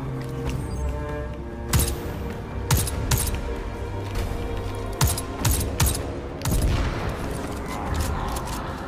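Weapon fire in the video game Destiny 2: The Witch Queen: a series of sharp, loud shots and bursts spaced over several seconds, with booming impacts and a denser volley near the end.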